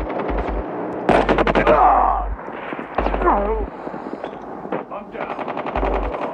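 Rapid bursts of automatic gunfire ring out in the mobile game Call of Duty Mobile, loud and close, with people talking between and over the shots.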